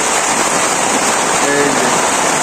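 Heavy rain pours down steadily in a village during the rainy season, a dense continuous hiss of water close by with no break.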